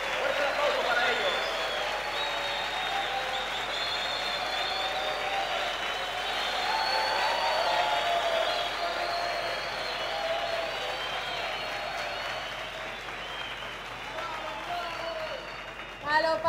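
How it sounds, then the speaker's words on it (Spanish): An audience gives sustained applause as a group of Dominican palero performers is welcomed onstage, the clapping running steadily under voices and a tuneful, song-like sound for the full stretch. "Fuerte el aplauso para ellos"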